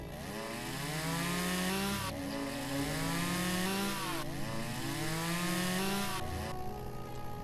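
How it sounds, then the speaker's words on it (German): A chainsaw cuts wood in the logging game Lumberjack's Dynasty, its engine droning steadily and rising and falling in pitch as it bites through the log, loud and continuous. "Aber trotzdem schafft die gute Kettensäge das."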